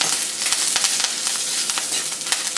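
Dried red chillies, onion, green chillies and coriander seeds frying in a hot pan for zucchini chutney, a steady close crackling sizzle with scattered sharper pops throughout, no voices.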